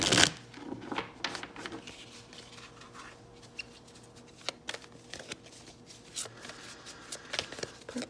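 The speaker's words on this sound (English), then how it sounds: "let me go ahead and give this a good shuffly shuffle" Mermaid Tarot cards are shuffled close by, a steady run of crisp riffling and soft slapping of the cards for several seconds with brief pauses and no talking.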